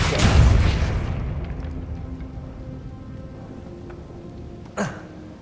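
A Depulso force spell cast in Hogwarts Legacy lands as a loud, broad magical burst that fades over about a second into a quieter lingering ambience, with a brief sharp second impact near the end.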